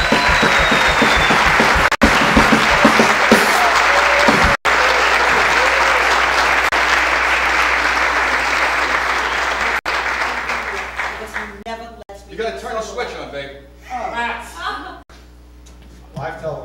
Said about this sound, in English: let's give a big round of applause to Miss Sue Kroll.